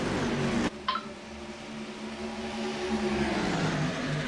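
Race cars in iRacing drone steadily at a distance as engine tones slide and shift through the corner, with a brief sharp cut near the start and faint commentary underneath.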